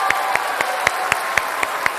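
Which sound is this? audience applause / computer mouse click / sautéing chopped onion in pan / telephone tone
audience applause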